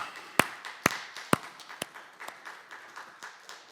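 During a Sunday service at Yangpyeong-dong Church, a handful of sharp, evenly spaced claps ring out about twice a second, then soften into faint, sparse clapping.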